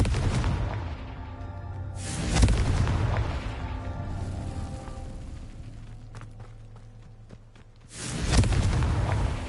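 Two heavy Confringo blast spells explode in Hogwarts Legacy, each a loud, booming detonation with a rumbling tail, the second arriving several seconds after the first, with a quieter crackling rumble between them.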